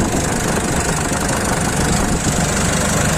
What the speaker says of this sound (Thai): ที่ทำไปครับแก้ระบบวาล์วนะครับลองฟังเสียงเครื่องดูนะครับ